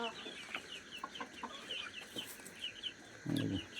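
Broiler chickens on a poultry farm cluck softly and repeatedly in a quiet shed, with one brief, louder squawk near the end.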